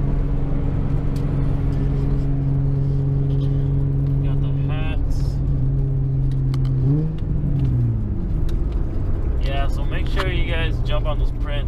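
A car engine hums steadily from inside the cabin while driving, with a low drone and a shift in pitch partway through, as someone talks over it.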